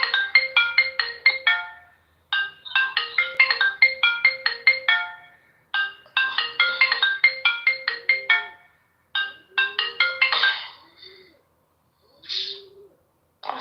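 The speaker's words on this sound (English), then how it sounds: "I think the person was recording and the phone was ringing." A phone ringtone plays repeated bursts of quick, bright electronic trills separated by short pauses, clear and close with no other sounds.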